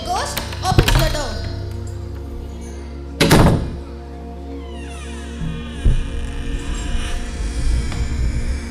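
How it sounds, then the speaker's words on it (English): Wooden stage door sounds during a school theatre play: several knocks and thuds early, then a firm bang and a later softer thump, each standing out over a hall hum, with stage voices and background murmur. "The ghost opens the door."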